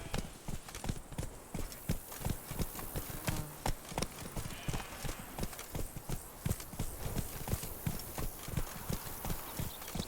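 Hooves of Geralt's horse Roach in The Witcher 3, a steady rapid clip-clop of galloping on firm ground, close and rhythmic throughout.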